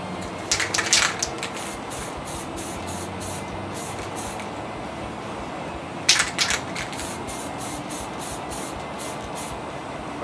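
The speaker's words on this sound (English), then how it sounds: "I've been spray painting stuff outside for years in Texas" Spray paint can coating tabletop terrain buildings outdoors, two bursts of hissing spray with sharp nozzle onsets around a steady airy background, fairly close and without voices.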